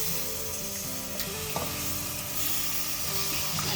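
Chicken liver sizzles steadily in hot oil in a pan, a continuous close frying hiss with faint stirring scrapes and no voices.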